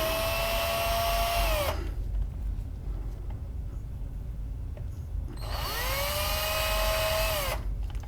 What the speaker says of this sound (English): It's about 1 to 2 millimeters of plastic that we're drilling through.